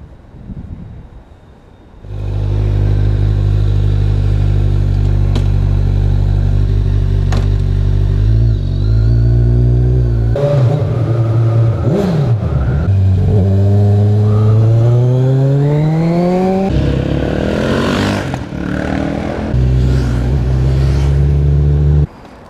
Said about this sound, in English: I think I heard your bike pull in.